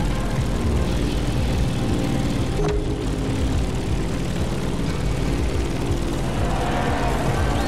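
A propeller airplane in The Crew Motorfest racing game drones steadily as it descends to land, a continuous low engine hum with airflow, moderately loud and without talk.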